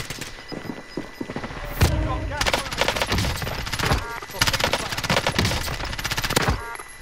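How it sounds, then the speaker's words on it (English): Machine gun fire in a Call of Duty multiplayer match: loud, rapid bursts in repeated volleys with short gaps and heavy booming impacts, filling the whole stretch. "I am under fire."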